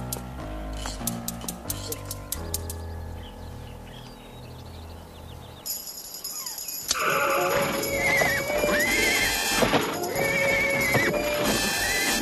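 A saddled horse whinnies and snorts nearby as hooves clop, with loud outdoor ambience and birds in the background after a quiet musical stretch.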